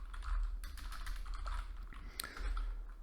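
Fingers type on a computer keyboard during a Python beginner's coding lesson, a quiet run of quick, uneven key clicks up close over a low hum, with no talking.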